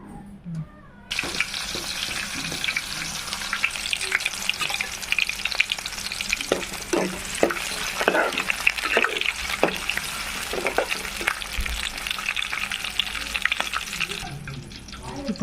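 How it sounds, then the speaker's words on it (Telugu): Onions hit hot oil for a village-style chicken dum biryani, bursting into a loud, busy sizzle with crackling pops and stirring scrapes that continue steadily, faint background sounds underneath. "ఇప్పుడు ఆనియన్స్ తీసుకొని ఆయిల్లో వేసుకుందాం"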